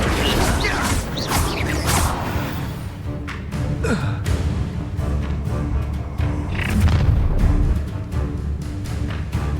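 An Incendio fire spell cast during combat in the Hogwarts Legacy video game, a loud dense burst of whooshing and crackling effects over continuous game noise and music, with booms and impacts throughout.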